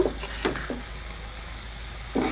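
Soft sizzling with a few scraping strokes of a spatula stirring food in a pan, close and fairly quiet.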